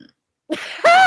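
A short throaty croak, then a drawn-out burp-like belch with a rough, gurgling tone, loud and close after a brief silence.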